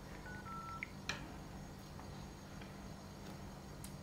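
Faint touch-tone dialing beeps from an LG V50 smartphone placing a call, a few short tones over quiet room hiss, followed by soft clicks.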